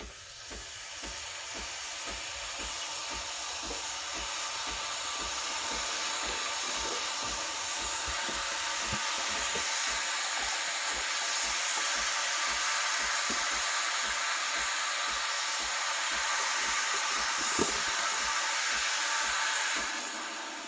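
Steam wand of a Breville Barista Express BES860 espresso machine hissing steadily into a milk jug half filled with cold full cream milk, a loud continuous rushing hiss with faint sputtering, no voices.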